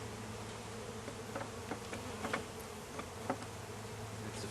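Honey bees hum in a continuous close drone around a top bar hive, with individual bees buzzing past the microphone now and then.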